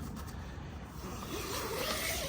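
A tent zipper being opened makes close, soft rasping pulls over a couple of seconds.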